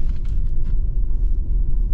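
A car climbs a snowy road with a steady low engine rumble and tire drone, close and loud inside the vehicle, with no talking.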